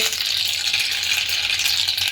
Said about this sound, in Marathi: तेल गरम झालं त्यामध्ये मोहरी, जिरं